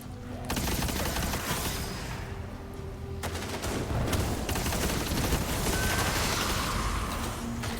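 Weapon gunfire in the video game Destiny rattles in rapid, continuous bursts, loud and close, with brief pauses and a dense layer of game effects behind it.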